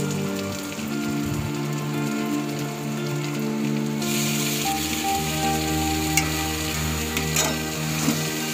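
Chopped banana flower hits a hot pan for a Bengali prawn dish, and a loud, dense sizzle like heavy rain swells in and then holds steady up close, with no talking.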